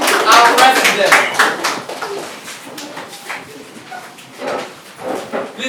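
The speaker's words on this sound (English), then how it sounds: "And with a standing ovation, ladies and gentlemen, our president." An audience at a university creative club general meeting claps loudly for the newly elected president, a dense burst of applause that thins out over several seconds, with voices and cheers mixed in.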